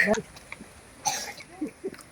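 A few short coughs scattered across the moment, close and moderately loud, mixed with bits of voice in between, on arrival at Lachhiwala Nature Park forest, Dehradun.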